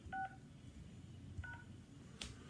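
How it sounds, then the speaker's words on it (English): A touch-tone phone keypad dials a PIN, two short DTMF beeps spaced about a second apart, faint over a low background murmur, with a brief noisy burst near the end. "Using your touch-tone phone, please enter your PIN number."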